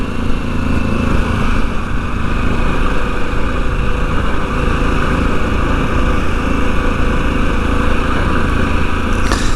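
A Harley-Davidson Pan America motorcycle pulls along a hilly Front Range road in second gear, its engine a loud, steady, rough drone blended with wind rush throughout, with no talking.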